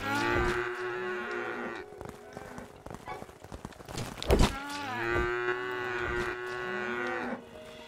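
Cows in the video game Craftopia moo in two long, loud, drawn-out calls close by, with a brief clattering of hooves and movement between them.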